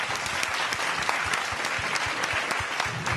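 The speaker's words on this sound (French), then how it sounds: "Faut s'applaudir." A studio audience at a New Year special applauds in a thick, even wash of many clapping hands, sustained at moderate loudness with no speech over it.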